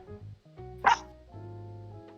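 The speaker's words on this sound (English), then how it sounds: "I hear a dog barking." A neighbor's dog gives a single sharp bark in the distance, heard faintly behind a low steady background hum.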